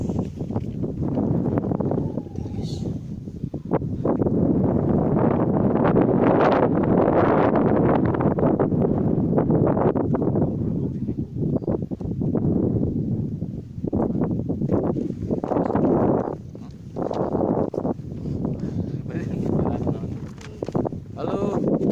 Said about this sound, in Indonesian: kita sedang angin-anginan di puncak Ciremai